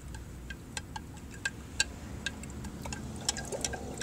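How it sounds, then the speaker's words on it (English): A spoon stirs a liquid solution during gold recovery from scrap RAM memory, making faint, rapid ticking clicks against the container under a steady low hum. "do one more good stir"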